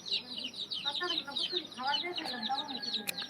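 Hill-breed chickens collected from different regions of Bangladesh cluck continuously at a Jamalpur farm, a dense overlapping chorus of close, repeated clucks filling the whole stretch.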